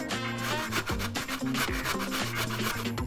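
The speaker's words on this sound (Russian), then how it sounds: "Берем мелкую терку и боком натираем." Food is rubbed sideways against a fine grater while cooking salmon and vegetables, giving close, rhythmic rasping strokes that repeat several times per second over a few seconds, with no talking.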